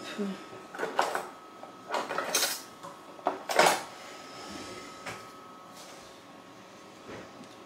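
Dishes and cutlery being cleared away in a home kitchen while making a no-bake cake: a few sharp clinks and clatters of plates and utensils in quick bursts, then quieter handling, close by with no talk.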